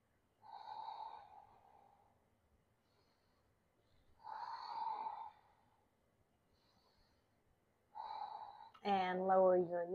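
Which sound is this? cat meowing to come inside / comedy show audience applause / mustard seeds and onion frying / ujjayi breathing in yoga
ujjayi breathing in yoga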